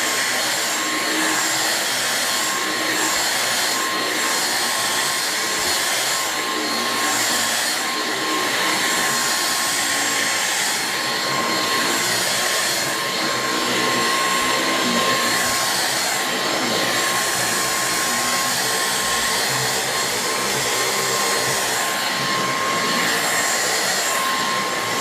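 A Dyson V6 Absolute cordless stick vacuum running on carpet gives a loud, steady high-pitched motor whine with a rushing airflow hiss, held continuously close by, with slight surges as it moves.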